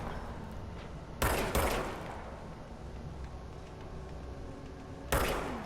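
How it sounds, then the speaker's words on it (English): Service weapon firing in Control, two close, sharp shots in quick succession followed by a single later shot, each punching out above a quiet, hissy room tone. "R2 to fire service weapon."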